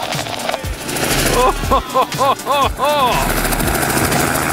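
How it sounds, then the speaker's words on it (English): A small test aircraft hovers just after lift-off, its rotor making a loud, close, rhythmic chopping throb with whining tonal sweeps. "our brave test pilot skillfully maneuvers his aircraft into a hover"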